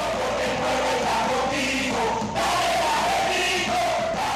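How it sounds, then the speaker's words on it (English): A large crowd celebrating in the street after a Venezuelan election, a dense continuous roar of many cheering voices with shouts rising and falling throughout. "So why were there fireworks for Maduro and jubilant dancing crowds"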